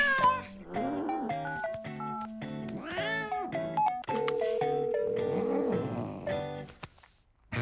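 An animated cartoon cat meows several times in a row, with drawn-out, wavering cries that rise and fall. Other tones and effects sound in the background, and there is no talking.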